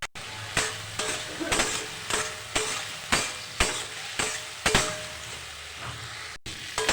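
Spice paste sautéing with papaya and potato in a pan, a steady sizzle punctuated by regular sharp scraping strokes of a spatula about twice a second, close and fairly loud.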